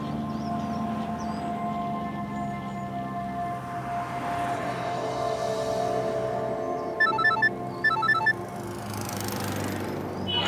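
Two short bursts of an electronic phone ring, beeping rhythmically over a steady background hum.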